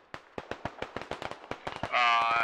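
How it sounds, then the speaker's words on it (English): Squad video game combat: a rapid string of sharp, crackling blasts like firecrackers, about a dozen in quick succession, then a sustained loud rumbling roar as a hell cannon artillery round lands; a voice talks faintly underneath. "Is that enemy artillery? And was that a hell cannon?"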